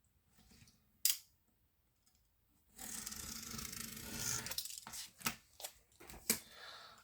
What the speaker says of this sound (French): Je découpe le surplus de double face.